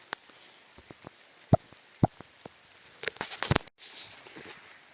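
Scattered drops strike a surface at irregular intervals, a few sharp taps standing out, then a denser patter of rain toward the end, with no voices.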